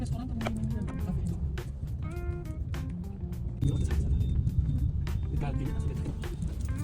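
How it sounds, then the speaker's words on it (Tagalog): Busy street traffic in Vietnam, with many cars and swarms of motorbikes forming a steady rumbling engine wash. Horns beep now and then, the din swells louder partway through, and people talk over it. "Sobrang daming sasakyan at lalo na motor."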